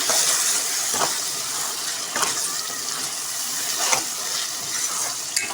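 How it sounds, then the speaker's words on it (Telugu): Masala with ginger paste and garam masala fries in hot oil, giving a steady close sizzle and hiss with occasional stirring scrapes and bubbling bursts. "బాగా నూనెలో ఉడకనివ్వాలి మసాలని"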